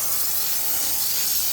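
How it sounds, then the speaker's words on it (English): A pump-up sprayer mists cleaner onto the strut tower area of a Subaru WRX STI engine bay, giving a loud, continuous close hiss with no pauses. "Not to spray too much, just one or two little places is all right here."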